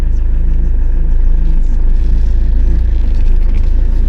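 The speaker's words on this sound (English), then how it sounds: "let's see if the handbrake will come off and see if she'll move" A motorhome that has stood for about ten weeks rolls off after its handbrake is released, giving a steady, loud, low engine rumble with a faint periodic hum and no other clear sounds.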